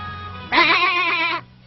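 A single long, quavering goat bleat, close and loud, lasting close to a second over a quiet background.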